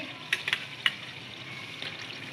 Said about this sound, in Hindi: और अब हम इनकी करेंगे खूब भुनाई